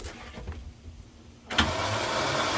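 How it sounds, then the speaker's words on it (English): A 1979 Dodge W300 Club Cab truck with electrical trouble cranks with a grinding starter, then the engine catches at once and settles into a loud, rough, steady idle close by. "Well, I just started the old truck up."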